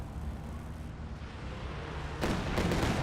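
An artillery barrage in the video game Company of Heroes 2 rumbles on as a steady, heavy low roar, then swells into a louder burst of blasts over the last second or so.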